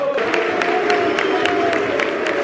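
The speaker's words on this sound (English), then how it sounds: "Boos and claps from the away end" Away-end football crowd at full time after a Bolton vs Port Vale match, a steady dense wash of clapping and crowd noise with booing mixed in, loud and continuous throughout.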